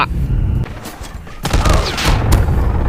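Gunfire in Call of Duty Mobile, with rapid, loud bursts of shots and heavy thumps crackling in quick succession across a short exchange.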